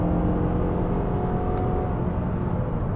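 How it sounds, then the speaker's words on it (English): Mazda 6 with its 2.5 engine accelerating, a steady close-up engine drone and whir heard from inside the cabin, with low rumble holding even throughout. "Okay, in terms of power, we're accelerating and it's going."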